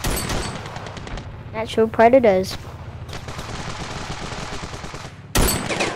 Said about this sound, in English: You can hear the gunshots just of what they're doing.